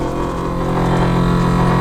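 A faulty heater blower motor inside a vintage camper van gives a steady, loud mechanical drone with a layered hum, unchanging throughout with no voices.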